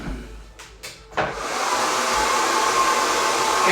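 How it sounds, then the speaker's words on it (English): A handheld blow dryer drying hair at home clicks on after a few soft handling noises, then settles into a loud, steady airy roar that holds to the end. "So I'm going to take my blow dryer"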